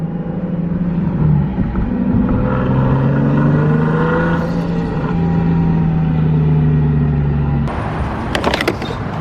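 A car's engine drones loud and close as it pulls hard with traction control off on a hot day, pitch climbing steadily through a long run before a sharp mechanical clatter near the end.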